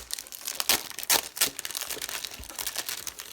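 Packaging around metallic-foil Stampin' Up! specialty designer paper is torn open in a run of close, loud crinkling, rustling and tearing bursts with no talking.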